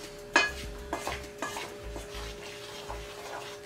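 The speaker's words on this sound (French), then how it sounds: "On va brasser ça un petit peu." Squash cake batter with raisins is stirred in a bowl, with soft repeated scraping strokes and a sharp utensil knock at the start, fairly quiet and close, without speech.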